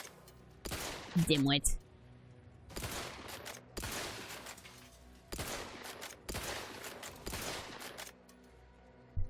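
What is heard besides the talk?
gunfire from shooting in The Outer Worlds 2 video game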